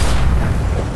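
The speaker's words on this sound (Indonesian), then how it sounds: "Wah, bomnya meledak, cuy." A bomb explodes in The Walking Dead: The Final Season game, a dense, loud rumbling blast with a continuous roar that fills the whole second without pause.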